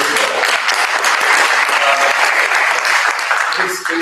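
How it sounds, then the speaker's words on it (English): Sustained applause from a conference audience, dense and steady clapping filling the room for several seconds before tapering at the end. "I think he deserves a round of applause."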